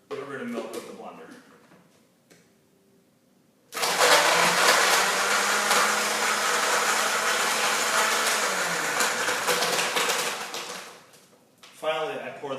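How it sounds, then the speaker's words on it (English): A blender roars loudly for several seconds, grinding ice, yogurt and milk steadily, with talking before and after the motor runs. "I blend the ice, yogurt, and milk with the blender."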